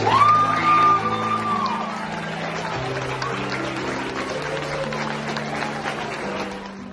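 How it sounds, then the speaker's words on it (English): A school crowd applauds and cheers for a returning soldier and his son Luke Allen, a loud burst of shouting at the start settling into steady clapping from a large group of children and adults, with a sustained tone running underneath. "Everybody give Luke Allen a round of applause and his father."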